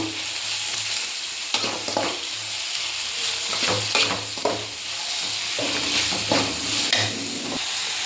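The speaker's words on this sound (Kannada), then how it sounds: "ಟೊಮೆಟೊನೂ ಇದರಲ್ಲೇ ಫ್ರೈ ಮಾಡಿಬಿಡ್ತೀನಿ" Tomatoes frying with reddened onions in a pan for sambar, a steady close sizzle with intermittent stirring scrapes and clatters throughout, no talk.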